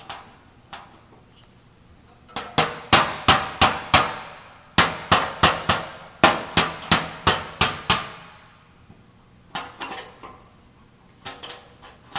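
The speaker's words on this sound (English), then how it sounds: "We're just tapping the metal to kind of relax a little bit and to help roll it into the low area." Hammer tapping car body metal to roll out a low area during dent repair, a series of sharp metallic taps in quick bursts, several rapid runs of strikes separated by short pauses, close and clear.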